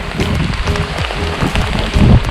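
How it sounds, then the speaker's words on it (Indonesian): Heavy rain falls during a mountain hike on Gunung Pesagi, a dense close patter on nearby surfaces with scattered thuds and rustling, steady and loud with no talk. "Kita mulai perjalanan kita lagi dalam kondisi hujan."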